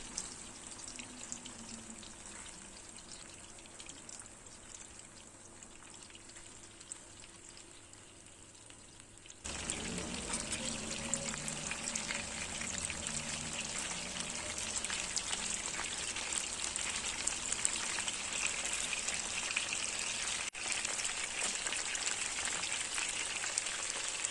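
Steady sizzling and crackling of meatballs frying in a pan over medium heat, quiet at first, then noticeably louder and denser after a short while.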